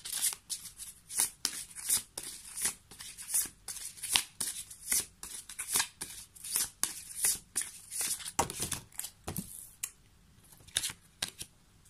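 Playing cards are shuffled over and over, giving quick riffling bursts and soft snaps in a loose irregular rhythm, close and clear in a quiet room with no talking.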